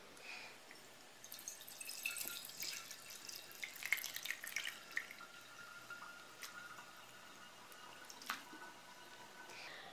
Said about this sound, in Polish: Płatki powolutku obciekają.